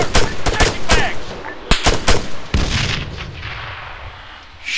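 Gunfire in the military shooter Arma 3, with a rapid burst of loud, close sharp shots, then more spaced cracks and booms that trail off into rolling echo and background battle noise.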